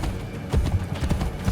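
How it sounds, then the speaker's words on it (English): A horse gallops in Assassin's Creed Brotherhood, with rapid, heavy hoofbeats in a quick uneven rhythm over a dense game background. "Faster to travel by horse."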